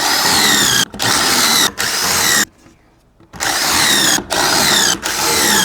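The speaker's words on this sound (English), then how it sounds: "we are going to put in some pocket holes" A power drill bores pocket holes in sanded wood for a whiskey bar, running loud and close in several sustained bursts separated by short pauses, one of them longer and nearly silent.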